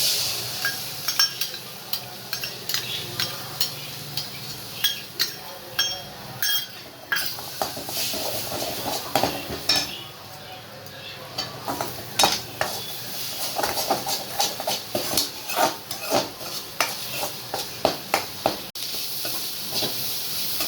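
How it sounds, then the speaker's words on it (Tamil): Beaten egg seasoned with plenty of pepper hits a hot pan for an egg fry, giving a steady low sizzle broken by frequent sharp clinks and scrapes of a utensil stirring against the pan, with no talking. "இப்போ வந்து இந்த அடித்து வச்ச முட்டையை ஊற்றலாம்."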